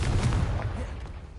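A Confringo fire spell bursts in Hogwarts Legacy, a loud, close, booming blast with a rumbling low end that stays dense through a brief moment of combat.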